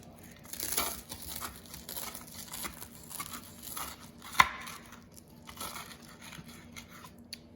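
A knife cuts crossways through a hot Reuben sandwich, giving a steady crunching, crinkling rasp of toasted bread and wrapping, with one sharp louder crack near the middle; close and fairly quiet, with no talk.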